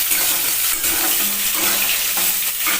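Fish frying in a pan sizzles in a loud, continuous crackle and spit close by, steady throughout with no talking.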